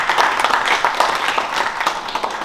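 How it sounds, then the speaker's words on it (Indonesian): Audience at a Garis Poetih 2026 press conference welcoming the Eid holiday applauds, a dense steady patter of clapping for a couple of seconds, moderately loud and fairly close. "Kita berikan tepuk tangan hadirin sekalian."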